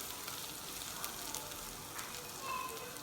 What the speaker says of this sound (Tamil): நம்ம வந்து கட் பண்ணி வச்சுருக்க வெங்காயமும் பச்சை மிளகாயும் சேர்த்து வதக்கி விட்டுக்கலாம்